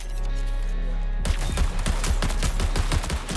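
Rapid gunfire in the shooter video game Marathon breaks out suddenly after a droning intro, a loud, steady stream of rhythmic shots with no talking.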